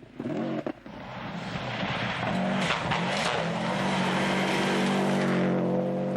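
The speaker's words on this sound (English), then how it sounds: "Cars touch nearly 120 miles an hour on the straights, and it's very slippery indeed as you dive into the valleys." Rally cars race flat out on the slippery Motu Road special stage of the 1995 World Rally Championship, engines roaring loud and steady with rising revs and a brief skid-like burst, no voices present.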